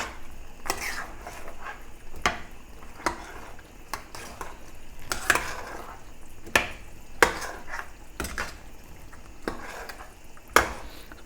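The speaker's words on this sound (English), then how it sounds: "And then just stir it in." Spicy chicken and okra being stirred in a pot, with a spoon scraping and knocking against the pot in irregular strokes every second or so over a faint sizzle.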